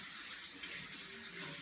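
Hot water runs steadily from a tap onto a clean tea towel in a home kitchen, a continuous close splashing hiss with no speech.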